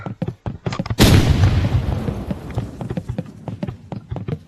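Grenade blast in the shooter game Rivals: a sudden loud boom about a second in, with a long rumbling tail, surrounded by rapid repeated gunfire and clattering footsteps.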